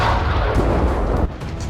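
Rocket fire at an Israeli army watchtower on the border comes through as a loud, dense rumbling roar with heavy low booming, followed by a sharp break and a slightly quieter rumble.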